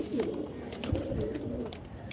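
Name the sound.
pet pigeon cooing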